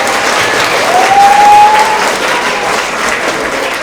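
Loud, close round of clapping from students and families at a 6th–8th grade spring award assembly honoring social studies winners, steady throughout with a faint whistle-like tone briefly rising above the claps.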